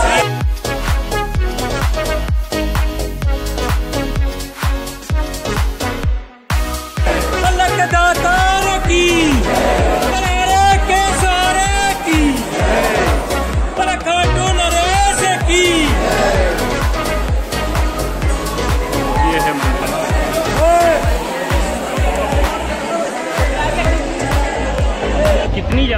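Dense, steady din of a huge crowd of devotees queuing at the Khatu Shyam temple, with continuous overlapping voices, shouts and chants filling the scene, loud and close throughout.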